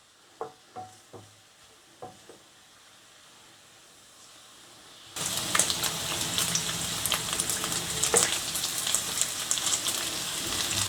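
Bacon frying in a pan, beginning with a few faint taps and clinks, then a sudden loud, steady crackling sizzle that continues to the end without talking.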